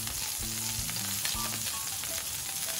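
Filet mignon steaks sear on a Blackstone griddle with a loud, continuous sizzle, close up, with faint scraping and clinks mixed in and no voices.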